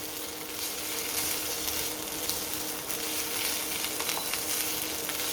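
Capsicums, beans and carrots sizzle hard in a hot pan with ginger, garlic and onion, a steady close crackling fry with light stirring clinks and no talk.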